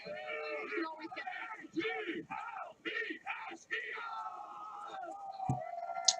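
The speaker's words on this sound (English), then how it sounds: "Can we get an Eagles cheer maybe?" A crowd yells and whoops an Eagles cheer, a run of loud, ragged chant bursts with short pauses between them and voices mixed throughout.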